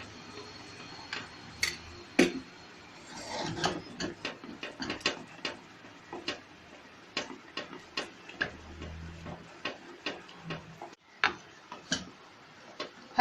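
A metal spoon stirring thick custard powder halwa in a pan makes sharp, irregular clinks and taps close by, with softer scraping and sizzling between the hits and no talking.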